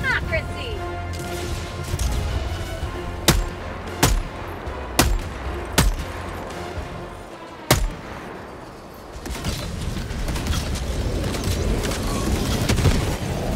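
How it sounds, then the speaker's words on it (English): Mortar rounds exploding in Helldivers 2: a volley of sharp, loud blasts lands in quick succession, then one more heavy boom follows after a short pause, all set against constant battlefield din and game noise. "Hope that mortars can do enough damage."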